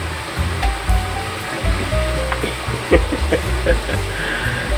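Water released from a fishpond rushes and gushes out in a loud, continuous churning roar carrying shrimp along, with splashes and voices mixed in.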